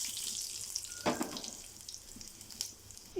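Mustard seeds, cumin, dry red chillies and garlic fry in a few spoons of hot oil, giving a faint steady sizzle with light crackles and a brief clatter partway through, no voices.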